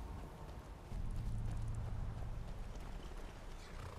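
Horse hooves clip-clopping in Skyrim, a faint rhythmic clopping of steady steps in an outdoor game setting, with no talk.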